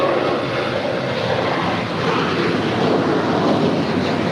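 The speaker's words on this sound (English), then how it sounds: "That is Alaska 585 departing to Seattle. It's a 9-year-old 737-900 ER." An Alaska Airlines Boeing 737-900ER jet departing LAX for Seattle gives a loud, steady broadband engine roar that fills the whole stretch without letting up, with no voices.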